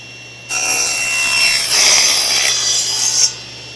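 A saw blade cuts through wooden base pieces for a washer set, a steady rasping cut of about three seconds that starts and stops abruptly, loud and close with no talking.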